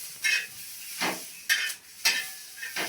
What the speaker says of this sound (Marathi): चला आता भाकरी सोबत मिरची तळायला लागले मी